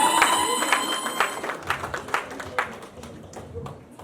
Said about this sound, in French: Sur vos applaudissements.